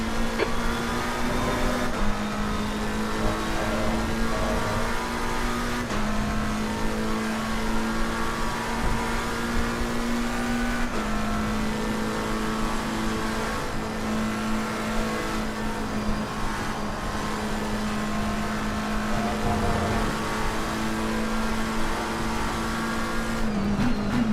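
Race cars in a racing video game lapping Spa Francorchamps, engines droning and revving steadily through gear changes for the whole stretch, with occasional tire squeal and a continuous loud mechanical hum.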